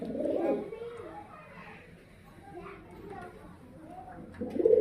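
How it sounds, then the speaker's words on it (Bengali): Low, soft cooing of yellow-eyed, medium-beaked pigeons nearby, a few throaty coos rising and falling, with faint background murmur. "হলুদ চোখের পায়রা এটা নর মিডিয়াম ঠোঁটের কবি তো মিডিয়াম ঠোঁটের পায়রা"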